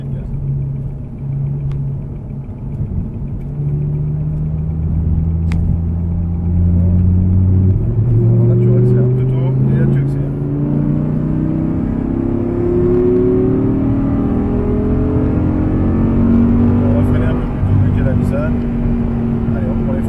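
An Audi R8 engine revs and climbs through rising tones on the Issoire racetrack, accelerating with a steady mechanical drone while someone talks over it from inside.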